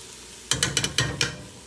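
Diced onions with a tablespoon of brown sugar caramelizing in a pan for French onion soup, heard as a run of six sharp, close scraping clicks of stirring over a soft sizzle.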